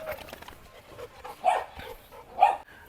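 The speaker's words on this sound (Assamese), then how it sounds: "এই উইনি পোৱালিকেইটাৰ বাপেক, এইটো ৰাজা।" A male Labrador, father of a litter of puppies, gives two distinct barks about a second apart. Each rises over a quiet background of faint shuffling.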